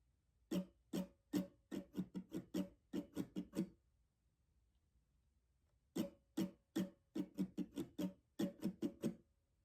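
Acoustic guitar strums the first outro pattern of a song: two rhythmic phrases of quick, crisp down-and-up strokes, split by a pause of a couple of seconds, played softly and close with no voice.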